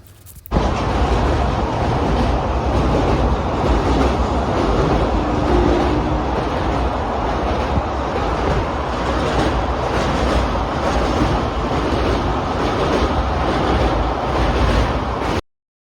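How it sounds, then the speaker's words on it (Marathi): Virar–Gholvad express train running near the Vaitarna river, heard from inside as a steady loud rumble with rhythmic rail clatter throughout. "2 मिनिटातच सुटली इथून ट्रेन"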